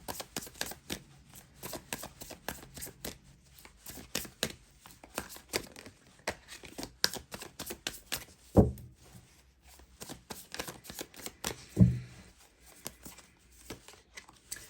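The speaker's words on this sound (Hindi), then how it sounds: "चलिए दूसरे एक डेक से भी मैं कुछ कार्ड्स लूंगी" Tarot cards drawn from a second deck, giving soft papery shuffling and flicking rustles throughout, with two sharper slaps or taps standing out near the middle and later.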